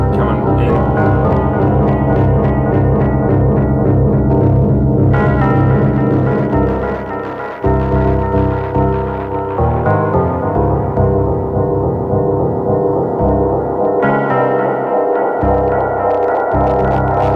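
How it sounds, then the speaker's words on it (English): Elektron Monomachine synthesizer held in infinite delay feedback, a loud, steady, droning tonal hum with layered repeating harmonics that shifts and thickens, dipping briefly near the middle before building again, with no voices. "So if I bring in some infinite delay, you hear the feedback coming in."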